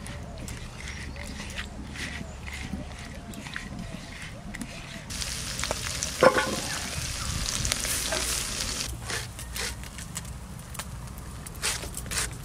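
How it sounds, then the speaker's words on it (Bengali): Chirebata river fish rubbed with salt and turmeric frying in a pan, a steady close sizzle that swells louder midway, with clatter and movement and a voice talking over it. "নুন হলুদ মাখিয়ে মাছটা ভেজে নেব"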